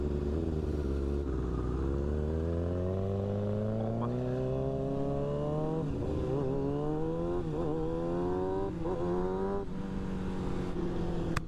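A Kawasaki ZX6R stunt-build sport motorcycle engine revs close by, its tone climbing steadily through a long pull, with a brief dip mid-way before rising again and holding loud to the end.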